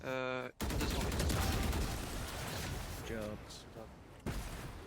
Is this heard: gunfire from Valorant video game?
yes